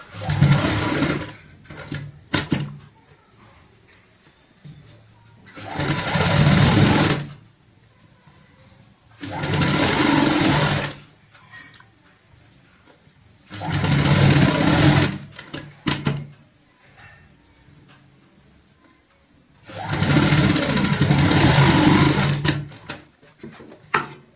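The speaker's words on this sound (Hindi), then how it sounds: "यहाँ पे भी टाइट रखते हुए कपड़े को पाइपिंग के साथ साथ सिलाई लगाएंगे।" A sewing machine runs in several bursts of steady stitching along the piping of a cushion cover, with quiet handling of fabric in the pauses between runs.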